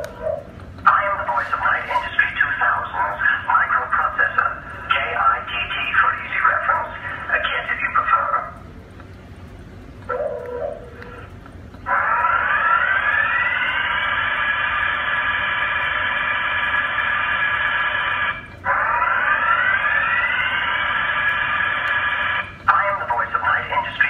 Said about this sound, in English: we just finished installing the alarm kit